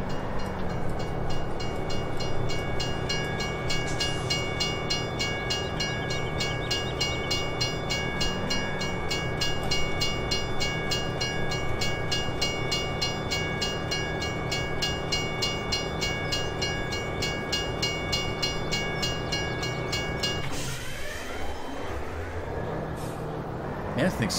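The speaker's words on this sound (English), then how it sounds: "We know the beets are on the right train." A train in Farming Simulator 17 runs with a steady, loud mechanical drone and rhythmic clatter for most of the stretch, then changes tone sharply near the end.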